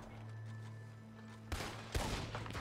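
Gunfire in the Western video game Red Dead Online, with a low steady hum of game audio before two sharp broadband shots land about half a second apart, followed by a brief burst of further crackling.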